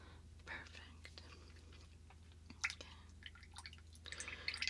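A face paint brush rinsed in water, close and quiet wet swishes and drips with soft squishy dabbing, bursts of brighter splashing toward the end, and soft whispering heard under it.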